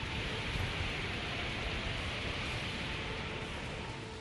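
Heavy monsoon rain pours down in Uttarkashi during flash flooding, a dense, steady hiss of downpour that fades slightly toward the end, with no voices.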